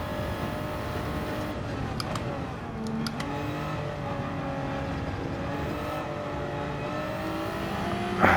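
Race cars howl around a track in Gran Turismo 7, a loud sustained engine drone that rises and falls through gear changes, with one car close and others faintly passing, and no voices.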